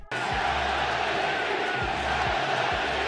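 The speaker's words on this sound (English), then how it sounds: "Hogan can't hear with the pitchcom because of the crowd." Baseball stadium crowd of A's fans chanting loudly, a dense, roaring mass of voices with rhythmic rising shouts, close and continuous after an abrupt start.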